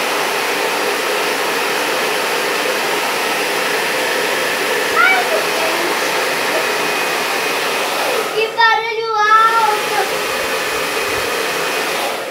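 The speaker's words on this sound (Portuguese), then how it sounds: "vou acelerar aqui a secagem com o secador" A hair dryer drying paint on a reused cosmetics container blows with a steady loud whoosh throughout, briefly dipping once as a voice speaks over it.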